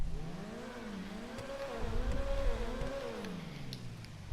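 The Carbonizer car's engine revving in GTA Online, a low tonal exhaust note rising and falling through a couple of quick throttle blips, fairly faint and alone.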